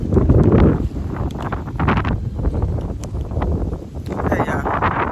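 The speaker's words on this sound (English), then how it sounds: "Hold on, wind." Strong wind buffeting the microphone on a windy day in a garden, with loud rumbling gusts that rise and fall continuously and faint rustling underneath.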